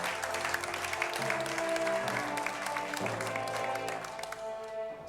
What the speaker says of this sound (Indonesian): Sekali lagi beri tepuk tangan untuk Asmaul Husna dari Surabaya